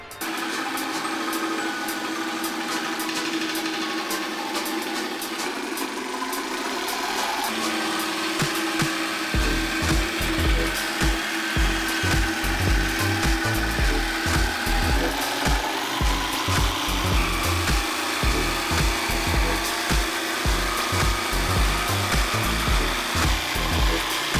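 A corded jigsaw runs through wood at a low setting and then grows harsher and busier as its speed is stepped up, with a loud rapid chattering cut dominating the second half.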